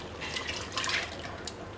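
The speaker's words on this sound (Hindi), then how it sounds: "फिर इसमें ये यखनी शामिल करेंगे।" Reserved yakhni broth is poured into browned beef payya (trotters) in a cooking pot, a soft, continuous liquid splashing and dripping with a few brighter spatters, heard alone at moderate level.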